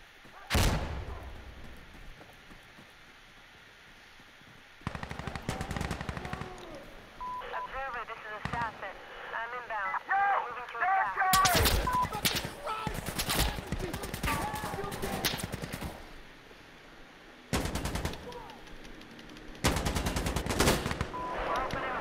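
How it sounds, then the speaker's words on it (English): Gunship fire support pounds a target in the video game Insurgency Sandstorm, with loud bursts of rapid heavy gunfire and explosive booms in several clusters and radio-like voices talking between and under them. "Let's get a gunship at this target."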